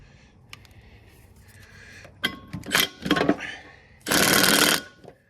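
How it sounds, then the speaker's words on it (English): An impact gun works loose the pulley nut on a riding mower deck spindle, a few short rattling bursts and then one longer loud burst, close by with quiet pauses between. "I can get an impact gun on this nut to get the pulley off"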